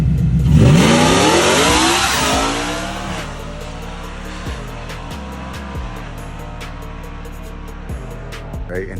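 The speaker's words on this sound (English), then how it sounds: "because here's Sylvester's truck" A four-wheel-drive truck engine revs hard and loud with a rising roar in the first couple of seconds, then drops back to a steady, lower running note with a few small blips for the rest.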